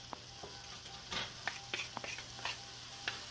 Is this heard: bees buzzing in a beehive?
no